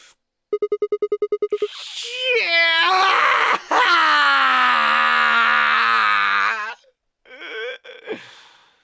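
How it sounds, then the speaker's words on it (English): A long, loud human scream of terror rises and wavers for several seconds after a short run of electronic beeps, from a game-over scene in Virtue's Last Reward, then trails off into fainter breathy sounds. "A scream clawed its way out of my body, taking my mind with it."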